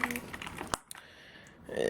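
Keys clatter on a Rosewill RK-6000 mechanical keyboard in a few quick clicky strokes, with a sharp louder tap midway, under someone speaking nearby.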